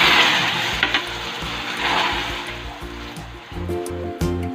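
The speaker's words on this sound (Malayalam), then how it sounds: "ചൂടായിരിക്കുന്നതിലേക്കാണ് നമ്മൾ വെള്ളം ഒഴിക്കുന്നത്." Water is poured into hot caramelised sugar for a carrot dates cake, setting off a loud, steady sizzling hiss that fills the whole stretch, with faint stirring clinks late on and no voice.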